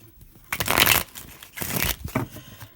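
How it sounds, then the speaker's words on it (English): Tarot cards shuffled by hand in two rustling bursts, a longer riffle and then a shorter one, close up and fairly loud, with brief quiet gaps and a few light card taps between them. "Do one more cohesive shuffle here"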